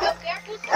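Dogs barking at a house, a few sharp yaps and barks heard over a person's voice talking close by, short and fairly loud.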